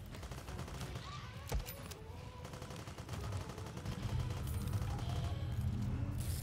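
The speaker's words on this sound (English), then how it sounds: "Oh, I found a gun turret." A gun turret in From Space fires in sustained rapid bursts under a dense, continuous wash of game noise, with a sharper crack partway through; moderately loud throughout, no talking.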